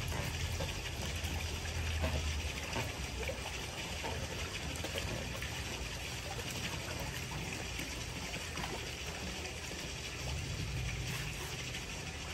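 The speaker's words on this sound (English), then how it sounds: "start pushing the hose into the water to remove all the air" Steady rushing and trickling of water flowing into a pool vacuum hose as it is pushed underwater to purge air, continuous and fairly loud throughout, with low gurgling underneath and no talking.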